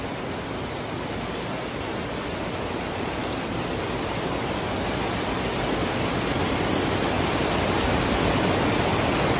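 Milk poured into an iced drink for a Johor-style chilled orange Vitagen beverage, a steady loud rushing pour lasting throughout with no voices.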